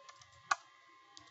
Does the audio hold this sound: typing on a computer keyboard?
yes